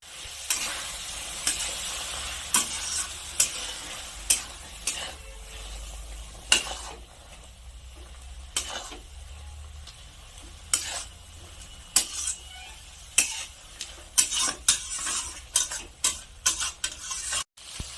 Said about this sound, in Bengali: এখন আমি আর কিছুক্ষণ নেড়ে চেড়ে জুসটা আর একটু মেরে নেব।